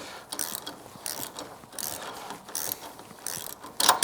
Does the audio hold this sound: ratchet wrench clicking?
yes